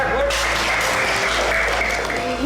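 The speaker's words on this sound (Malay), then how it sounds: "Tepuk tangan ke Imran." A studio audience at a Malaysian religious TV show claps in a dense, steady burst of applause lasting a couple of seconds, with a voice faintly underneath.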